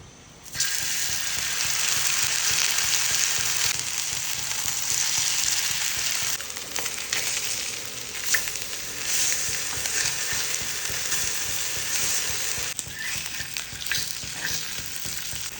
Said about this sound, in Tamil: 1 மணி நேரம் வஞ்சர மீன் ஊறிடுச்சுங்க. இப்போ தோசைக்கல்ல போட்டு எடுத்துக்கலாம்.